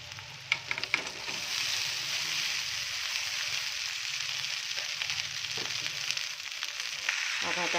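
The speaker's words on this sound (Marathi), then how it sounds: "पहा, सर्व अंडे छान असं परतून घेऊया. आता आपण जे भात घेतला ते भात ॲड करूया यामध्ये." Leftover rice and egg sautéing in a hot pan with mint for pulao, a steady loud sizzle with occasional clinks and scrapes of stirring throughout, no voices.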